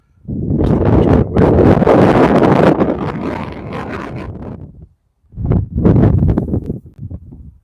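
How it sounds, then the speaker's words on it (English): Strong gusts of wind buffet the microphone outdoors beside a pond, two loud, rough roaring bursts of rumble separated by a brief moment of quiet. "big gust of wind"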